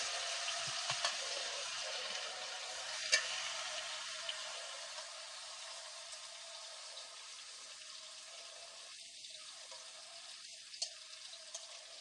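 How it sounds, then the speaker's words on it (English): Two pounds of oxtail pieces searing in a hot pan give off a steady, soft, broad sizzle with occasional small pops and spits, constant and fairly quiet throughout. "I'm going to sear these on this side for 3 minutes, and then I'm going to flip them and do them for 3 minutes"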